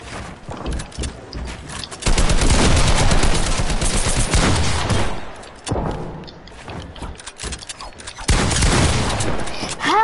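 Shotgun fire in the video game Fortnite, heavy booming blasts and bursts of gunfire coming in loud clusters, with quieter stretches of game noise between them.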